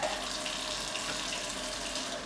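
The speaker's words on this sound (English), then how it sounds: "So I'm gonna wash my hands," Hands are washed under a running kitchen tap while making crockpot pulled pork. The water rushes steadily and close up, without a break and without other sounds.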